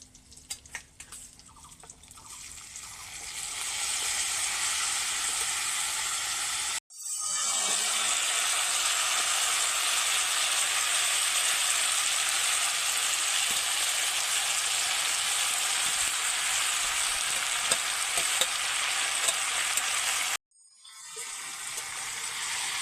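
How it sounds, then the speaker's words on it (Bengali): Rice coated with cashews and raisins fries in a pan over low heat for basanti pulao, giving a steady, loud broadband sizzle that runs almost unbroken, with two brief silent breaks. "তিন থেকে চার মিনিট হালকা আঁচে চালটাকে ভেজে নিতে হবে"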